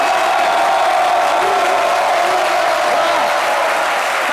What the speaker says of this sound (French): applaudissez très très fort pour la vie, très très fort